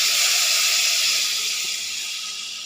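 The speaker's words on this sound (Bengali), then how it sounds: "এবারে জলটা দিয়ে দেবো, জল ঢেলে দিলাম" Water poured into a cooking curry of potato, pumpkin, drumsticks and tomato sets off a loud, steady hiss of steam and sizzling that slowly eases, close up with no talking.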